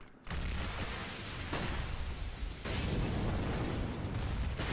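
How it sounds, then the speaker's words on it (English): Smoke grenades deploying in a Counter-Strike match, a sustained loud broadband hiss that starts abruptly and swells in stages, with no talk over it. "Here come the smokes"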